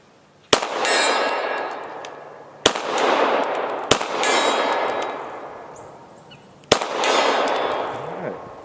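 Four sharp gunshots from a Smith & Wesson SD9 VE pistol crack out at irregular intervals, each trailing into a long outdoor echo, with faint metallic pings from struck targets.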